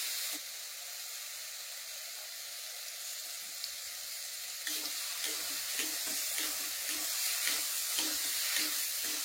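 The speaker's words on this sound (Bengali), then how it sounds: "তেল দিয়েই কষানি করি" Raw mango chutney frying in plenty of oil, a steady close hiss and sizzle throughout that grows louder halfway through, with soft rhythmic stirring scrapes in the second half.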